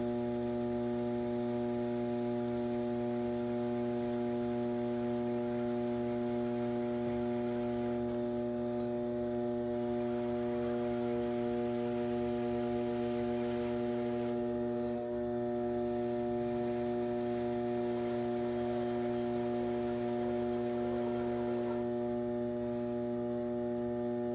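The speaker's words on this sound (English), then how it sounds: "Final refining, I told you I usually spin the wheel faster and move my tool slowly." A potter's wheel spins fast while a bowl is trimmed, giving a steady, even motor hum with a faint buzz that holds at a constant level the whole time, with only slight shifts in the background.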